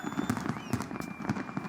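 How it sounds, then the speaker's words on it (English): Fireworks bursting over celebrations in Riyadh, a rapid series of sharp crackling pops and bangs at moderate distance, mixed with crowd noise. "Fireworks lit up the night sky as revelers cheered and danced to the beats."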